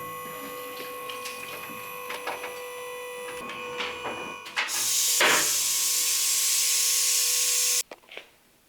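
A vehicle lift raises a VW Caddy 2K van in a garage: clanks and mechanical knocks, then a loud continuous hiss-like motor run for about three seconds that stops abruptly, followed by a couple of light knocks.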